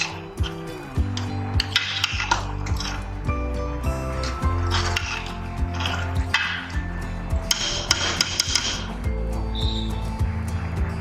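Dal and vegetables stirred in a pot with about three tablespoons of oil for dal dhansak, giving repeated metallic scrapes and knocks of a spoon against the pot over a steady low cooking hum.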